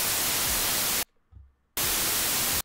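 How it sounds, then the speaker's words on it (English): Computer-generated white noise made in Audacity hisses in two loud, flat, steady bursts split by a short gap of near silence. "Okay, so it's just a load of white noise."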